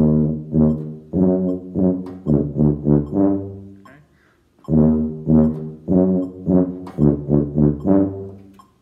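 Tuba plays a rhythm at a slow tempo of 52, a run of short, full-toned low notes in two phrases split by a brief pause, loud and close with no talking.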